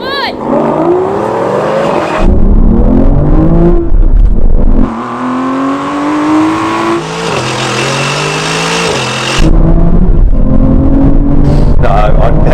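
Aston Martin Valkyrie, Vanquish and V12 Vantage in a drag race, loud V12 engines revving hard and climbing through gears with sharp shift breaks, several full-throttle runs in close succession.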